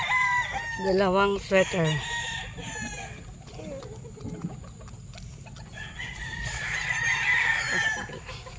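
Young roosters (stags) crow loudly and nearby in the opening seconds, then cluck and call more softly, with another crow rising later, while someone speaks briefly.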